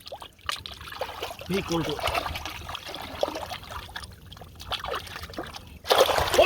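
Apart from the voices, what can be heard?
washing something in flowing river water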